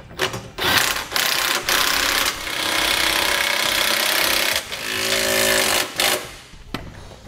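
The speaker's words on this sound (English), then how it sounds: "Right now we can snug down our 3/4 inch nuts a little bit." Nuts being snugged down while fitting a Curt trailer hitch receiver to a 2008 Lincoln MKX, a loud, busy run of mechanical ratcheting and rattling with a few brief pauses and no talk.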